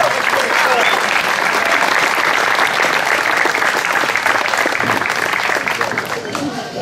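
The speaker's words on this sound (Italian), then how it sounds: "Un applauso a Francesco." Spectators at a motorsport slalom event in Bagnara Calabra applaud driver Francesco. The applause is loud, close and continuous, a thick wash of clapping that tapers slightly near the end.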